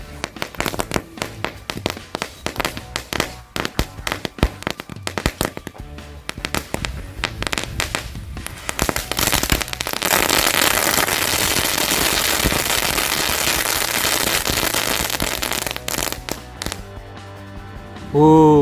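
A rapid string of sharp pops and crackles from an egg firecracker set against a raw egg builds into a loud, sustained crackling burst, ending with a heavier blast near the end.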